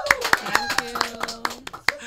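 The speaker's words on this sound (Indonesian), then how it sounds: "Tepuk tangan yang paling meriah." A small audience claps at a digital payment talk show, a sparse run of separate, distinct hand claps, fairly close, while music or voices carry on underneath.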